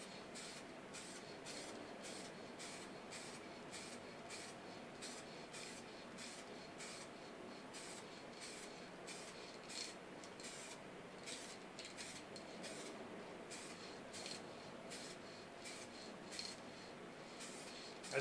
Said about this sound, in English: And now I'm going to take my spray paint and I'm just going to go